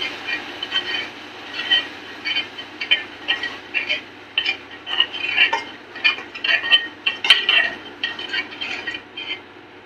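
Ground masala is stirred in hot oil in a pan, with a spoon scraping and clinking against the metal in uneven bursts over a soft sizzle, all close and moderately loud.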